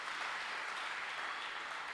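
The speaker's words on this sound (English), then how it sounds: "Shall we clap for Jesus?" A church congregation claps together during a worship service, a steady wash of applause that stays fairly faint and even, with no voices over it.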